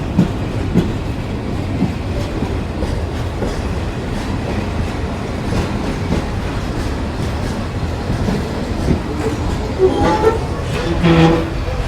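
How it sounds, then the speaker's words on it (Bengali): The Mongla Commuter train rumbles steadily past at close range, arriving at Chulkathi Bazar railway station, wheels clattering on the rails, with a brief whistle-like tone near the end. "মোংলা কমিউটার অ্যারাইভেল বাই চুলকাঠি বাজার রেলওয়ে স্টেশন"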